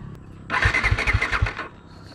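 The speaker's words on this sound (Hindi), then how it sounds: "गाइस ये स्टार्ट नहीं ले रहा" A Bajaj Dominar 250 motorcycle's electric starter cranks in a short burst of rapid churning pulses lasting about a second, but the engine fails to catch and falls silent, recorded up close.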